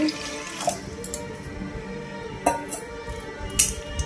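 Water poured into a pressure cooker at home, a running splash with a few sharp metallic clinks and drips scattered through it. It is close and steady, with no voices.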